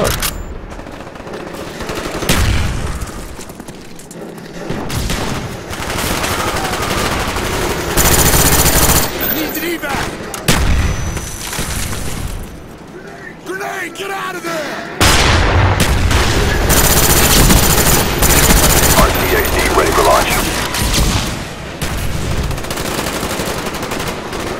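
Heavy automatic gunfire in Call of Duty Black Ops multiplayer, loud bursts of machine-gun fire and booms in rolling waves with brief lulls, with players shouting over the shooting.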